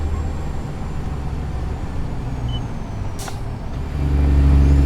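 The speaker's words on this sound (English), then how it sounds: "Jake brake got to be one of my favorite sounds in the world." A loud, deep truck engine in American Truck Simulator rumbles steadily, then the jake brake kicks in with a heavier, harsher growl near the end; a brief hiss of air cuts through midway.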